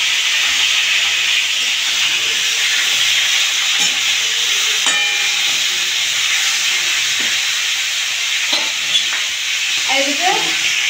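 A fish head fries in a pan of hot oil for a Bengali muri ghonto, giving a loud, continuous sizzle and hiss with occasional pops and stirring scrapes.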